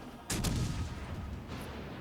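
Warship guns firing in the naval combat game World of Warships: Legends, one sharp heavy boom followed by a rumbling decay, fairly faint and alone, with a smaller thump near the end.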